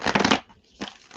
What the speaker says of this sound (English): One more shuffle for my beautiful Leos.